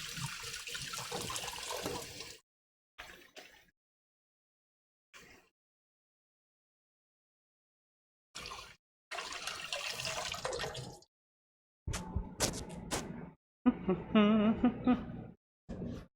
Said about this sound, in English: I'm going to give my egg hand a little bit of a rinse over here